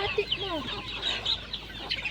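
Native and Red Island chickens cluck and chatter on a farm, a busy overlapping flock of short calls at moderate distance over a steady outdoor background.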